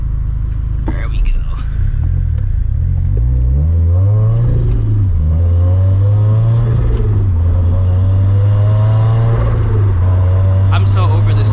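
A turbocharged Scion FR-S running E85 flex fuel revs loudly and close by, its engine pitch climbing, dipping and then holding at a steady drone.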